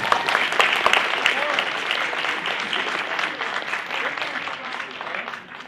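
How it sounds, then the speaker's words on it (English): An audience at a university lecture series breaks into sustained clapping, loud and dense at first and then gradually thinning, with a voice briefly audible over it. "so please give him a round of applause"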